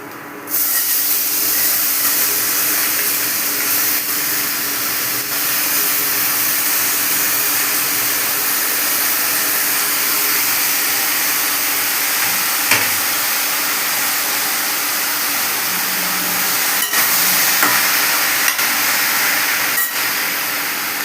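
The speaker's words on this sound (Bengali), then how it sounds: "এবার টমেটোটা আস্তে আস্তে ঢেলে দেবো।" Tomatoes fry in a pan for tomato chutney with a steady, loud, hissing sizzle that runs unbroken for about twenty seconds, with a few faint clicks and no talking.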